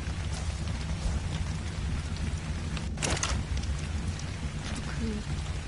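Steady rain falling in the survival game ARK, an even hiss throughout with a brief louder crackle near the middle, under someone speaking French.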